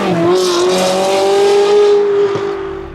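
A Ferrari Modena engine on its stock exhaust holds a loud, smooth, steady tone for a few seconds, heard close, then eases off slightly toward the end.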